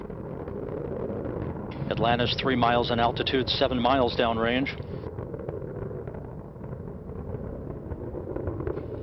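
Space Shuttle Atlantis, three liquid-fuel main engines throttled during the STS-122 launch, rumbles as a loud, steady broadband roar throughout, with a mission-control voice calling out altitude and downrange over it.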